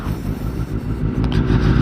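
Kawasaki ZX10-R sport motorcycle riding along in a group ride, a loud, steady engine drone with heavy low rumble and rising revs toward the end, no talking.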